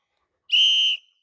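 A single short whistle blast, loud and close, a clean piercing tone lasting about half a second against silence.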